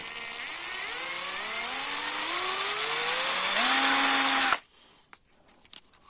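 Pro-craft cordless drill running alone up close, its whine rising in pitch as the speed is increased over several seconds, then cutting off abruptly, followed by a few faint clicks and handling noises.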